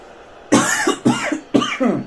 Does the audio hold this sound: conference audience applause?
no